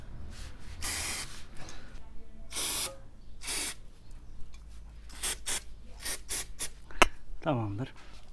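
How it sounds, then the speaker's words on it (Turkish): Brake cleaner sprayed onto a Honda CB125F motorcycle engine during a valve adjustment: several short hissing spray bursts of varying length, close by, mixed with rubbing and handling noises and a brief clank. "Bir de bir balta sprey ile bir yıkayalım azıcık."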